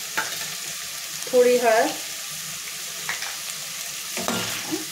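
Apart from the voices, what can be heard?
stirring sauce with soy sauce, ketchup and pasta masala in pan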